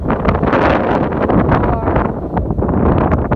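Wind blowing outdoors at Canyonlands National Park, a steady, loud buffeting rush over the microphone with gusty swells throughout.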